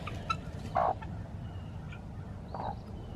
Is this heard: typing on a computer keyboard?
no